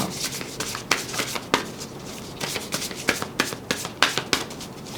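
Oracle cards being shuffled by hand before one is drawn for a Libra reading, giving a steady run of soft papery rubs and riffles punctuated by sharper slaps, close and fairly quiet with no talking.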